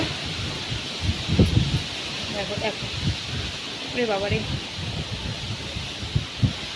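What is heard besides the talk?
strong wind of a storm blowing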